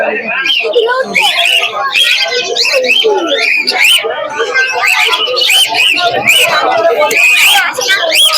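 Dense, constant bird calls and chatter fill the Krishnanagar pigeon market, loud and close, with many overlapping chirps and a busy crowd murmur underneath.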